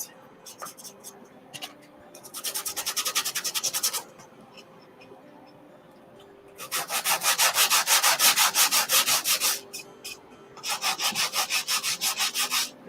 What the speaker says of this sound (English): And the more you sand, the more you're going to expose. I'm just sanding the edges